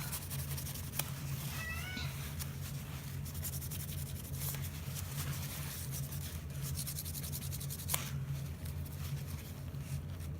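A cat gives a short, faint meow early on over a steady low hum, followed by scattered light scratching and tapping sounds.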